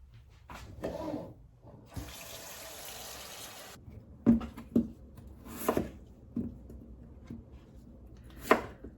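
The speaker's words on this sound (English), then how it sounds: "Now I'm cutting these into fairly large chunks." Knife chopping vegetables into large chunks on a board while preparing a canned pot roast, a series of distinct, fairly close thuds spaced irregularly, with a stretch of running tap water partway through.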